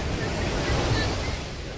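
Sea waves wash in at Miramar beach in Goa, a steady broadband surf roar with wind buffeting the microphone and no clear talk.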